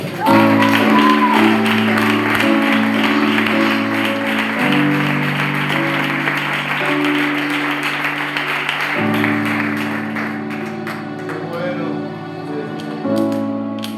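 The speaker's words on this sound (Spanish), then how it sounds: "damos un fuerte aplauso," Congregation applause at a church service, a dense broad wash of clapping that carries on over the full length, mixed with sustained organ or keyboard tones and voices beneath it.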